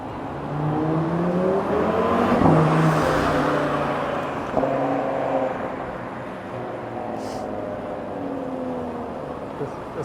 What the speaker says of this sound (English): This car is trying to turn right.